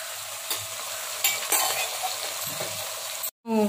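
Fish pieces are tossed in a vessel to coat them with chili powder for an Andhra-style fish fry, making soft scraping, rustling tosses with a few sharper knocks and a brief silence near the end.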